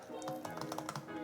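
Quick, light keystrokes clatter on the third-generation butterfly keyboard of a 2019 MacBook Air, about a dozen soft clicks in a fast run, close and fairly quiet.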